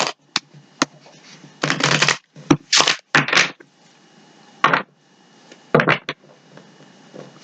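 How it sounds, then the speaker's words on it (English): Tarot cards being shuffled by hand in several short riffling bursts with quiet pauses and small taps between them, close and crisp. "I don't think I gave these 3 shuffles. I think I gave them 2."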